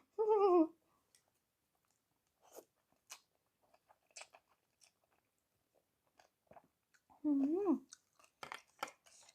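Close-up wet crunching and chewing of papaya salad and rice noodles, made of several short bursts scattered through near silence, with brief vocal sounds at the start and in the middle.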